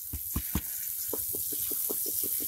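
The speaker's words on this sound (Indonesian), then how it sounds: "Kita siram secara jenuh." Water poured onto a potted plant in a planter bag until the soil is saturated, heard as a steady wash of pouring water with a series of soft splashing pulses, close by and alone.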